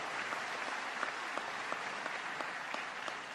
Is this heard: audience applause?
yes